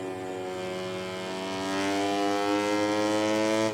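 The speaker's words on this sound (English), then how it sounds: "it sounds like this bike is breathing down the neck of Stone." Motorcycle engine in the MotoGP 19 video game holds a steady, loud, high-revving whine with rising pitch, the drone continuous and close throughout.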